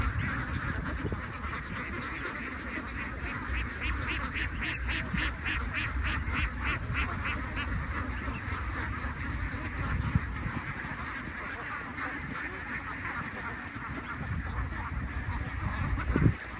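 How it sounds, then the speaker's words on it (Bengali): A large flock of ducks on a duck farm quacks in a dense, continuous chorus, with a run of rapid quacks standing out near the middle. "এত হাঁস আমার জীবনে প্রথম দেখার, একসাথে"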